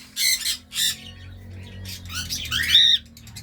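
Aviary birds give sharp, loud squawks close by at their nest box, two quick calls followed by a cluster of harsher squawks after a short pause.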